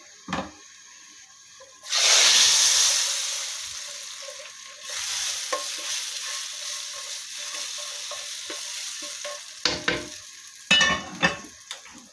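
Loud sizzling as oil tempering with three dried red chillies hits the pan, settling into a steady crackling fry with occasional stirring clinks, for moong and masoor dal.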